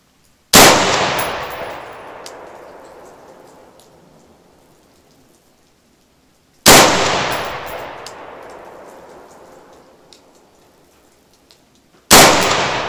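Rifle shots ring out with 55 grain Federal ammunition on a 100-yard range, two loud sharp reports with long decaying echoes spaced several seconds apart and a third beginning at the end, with no talking.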